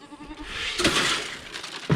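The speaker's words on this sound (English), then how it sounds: "let's feed the goats real quick first" Goats bleating at feeding time, a couple of short wavering bleats close by over faint farmyard background, with a brief thump near the end.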